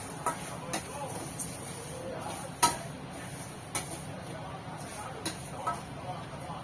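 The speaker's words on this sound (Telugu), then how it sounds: "ఫస్ట్ అయితే ఈ నువ్వులని ఇట్లానే వేయించుకుంటాను" Sesame seeds roasting in a pan, a utensil scraping and tapping against the metal in irregular clicks, with a soft dry rustle beneath, close and fairly quiet.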